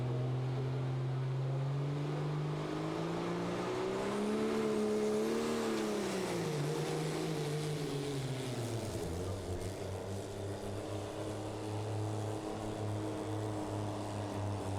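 A Dodge pro street diesel pulling truck makes a pass at a 2019 Terre Haute, Indiana pulling event, its engine droning loud and steady, pitch climbing and dipping as revs change, then settling into a lower sustained roar.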